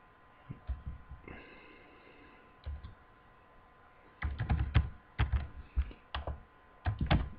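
A username is typed on a computer keyboard in uneven bursts of close, crisp key clicks, with quiet pauses between the runs of strokes.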